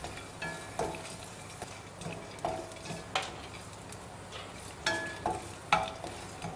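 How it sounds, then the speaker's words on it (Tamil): Dried turkey berries (sundakkai vathal) fry in oil with a soft crackling sizzle as a spoon stirs and taps the pan in a loose, repeated rhythm. "அதே எண்ணெயில் பார்த்தீங்கன்னா இந்த சுண்டக்காய் வத்தல் போட்டுக்கிறேங்க"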